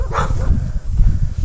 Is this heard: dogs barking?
yes